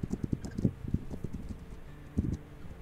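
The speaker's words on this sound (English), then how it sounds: "I'm gonna go ahead and go back on my horse" Horse hooves clip-clop in the video game This Land is My Land, a quick, uneven patter of soft thuds that bunches together, pauses, and returns faintly with a short burst near the end, heard alone.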